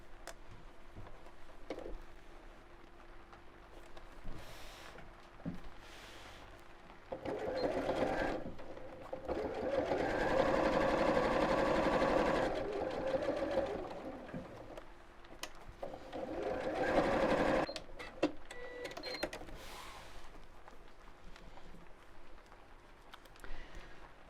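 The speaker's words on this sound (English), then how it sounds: "Now this time I'm going to sew all the way around the edge apart from this section" A sewing machine stitches around the edge of a clutch bag in several bursts of rapid mechanical whirring, quiet pauses in between, with the longest run in the middle. No one speaks.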